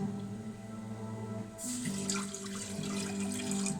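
Water from a tap pours steadily into a cooking pot for Chinese chicken curry with noodles, starting partway through as a bright continuous splash over a low background hum.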